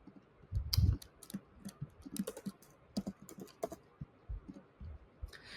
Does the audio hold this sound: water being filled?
no